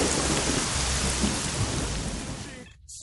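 Heavy thunderstorm from the video game STALKER, with dense, loud rain and a deep thunder rumble that fades sharply toward the end.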